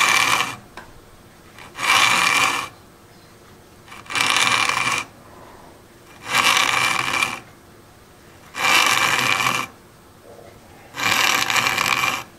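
A metal file rasps across the teeth of a thin marquetry veneer saw blade in five steady strokes of a couple of seconds each, separated by short quiet gaps, close and bright.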